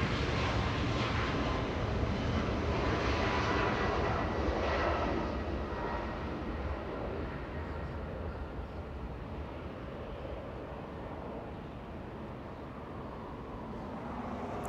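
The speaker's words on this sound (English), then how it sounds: "Aero Mexico getting a move on. Flying to Mexico City, that's a max 8." An Aeromexico Boeing 737 MAX 8 jet at Los Angeles International Airport, a loud engine roar that fades to a lower, steadier rumble partway through, with no talking.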